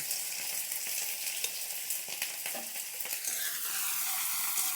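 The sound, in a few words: chopped onion, garlic and chili frying in oil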